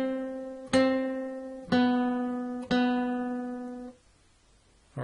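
Three slow plucked guitar notes on the second string ring out close and clear for Baa Baa Black Sheep, each sustaining and fading, with a fourth starting as it ends.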